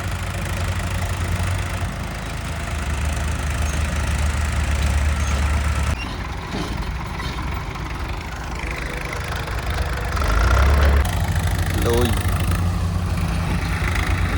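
A tractor engine idles steadily in a farm field with a low rumble throughout, slightly louder near the end, with voices talking faintly over it.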